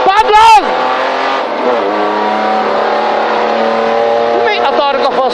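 A rally car's engine revs hard at full throttle during a stage of the Pusztai Oroszlány Rally, a loud sustained roar with rising pitch sweeps at the start and end, heard from close by with voices shouting over it.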